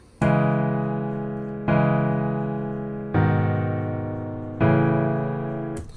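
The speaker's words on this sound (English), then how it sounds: "this is what the chord progression sounds like" Four sustained synth chords of a pop/trap beat progression, each struck together then slowly decaying, evenly spaced, rich and bright, with no voices.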